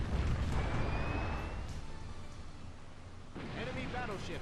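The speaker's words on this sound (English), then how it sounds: "Enemy battleship sunk." In a naval video game, an enemy battleship sinks amid heavy rumbling explosions that gradually fade, followed by a burst of sharper crackling blasts near the end.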